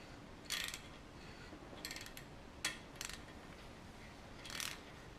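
Thread tap turned by hand to clean up threads in an engine block of a 50-year-old Mopar 360 small block, five short, faint metallic clicks and scrapes spaced irregularly in a quiet room, no talk.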